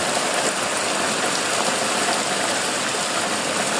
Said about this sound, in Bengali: থেমে থেমে বৃষ্টি হচ্ছে।